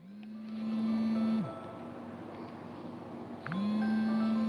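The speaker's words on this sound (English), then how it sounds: "sorry, it's my alarm." An alarm sounds with two long, steady, low electronic beep tones separated by a short pause. The beeps are moderately loud and stand alone over quiet background hiss.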